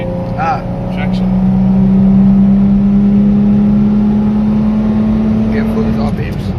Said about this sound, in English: Got some wheel spin there.